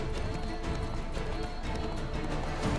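Horse galloping in The Witcher 3, a rapid run of hoof beats close and fairly loud, continuous across the short stretch with no voices.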